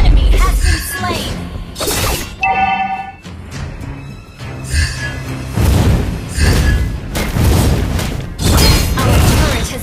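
A turret being destroyed in Mobile Legends: Bang Bang: a burst of shattering crashes and booming impacts, with chiming effects and a game announcer voice over continuous battle noise.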